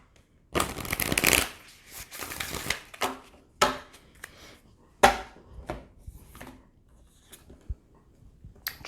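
Cards are riffled and shuffled in several quick bursts, crisp papery flutters followed by lighter taps and snaps, close and fairly loud with short pauses between.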